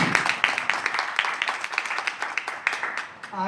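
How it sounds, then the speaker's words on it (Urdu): An audience claps for someone who has just recited a poem during a talk. The applause is a dense, steady patter of many hands, fairly close, lasting several seconds and tapering off at the end. "ایکسیلنٹ، تالیاں ہونی چاہیے ان کے لیے۔"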